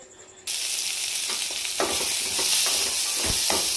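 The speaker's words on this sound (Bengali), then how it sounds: "এবার কাঁচা লঙ্কা আর পেঁয়াজটা ভেজে নেব" Oil bursts into a loud sizzle after a quiet start, then keeps frying green chillies and onion steadily while a utensil scrapes and knocks against the pan a few times.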